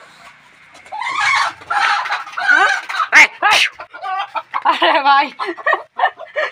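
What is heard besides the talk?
chicken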